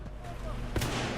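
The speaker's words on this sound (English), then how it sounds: "I like this shotgun." A single punchy shotgun blast goes off in the Titanfall 2 video game, close and loud against a busy game background.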